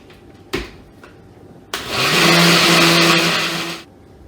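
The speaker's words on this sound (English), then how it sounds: "we're going to slap it onto the blender, we're going to blend it through" A couple of sharp knocks, then a blender blending hot sauce whirs loudly for about two seconds, a strong high-pitched motor roar that stops abruptly.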